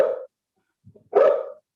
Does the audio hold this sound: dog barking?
yes